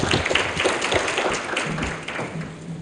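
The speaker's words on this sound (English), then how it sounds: "Please clap hands for yourselves." A conference audience at an Old Mutual asset management thought leadership event claps hands together, a dense, steady patter of many palms that stays fairly loud throughout and eases slightly toward the end.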